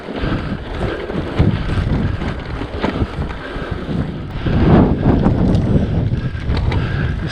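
Strong wind on open moorland near Hawnby Moor roars and buffets the microphone in continuous gusty waves, loud and close, swelling near the middle.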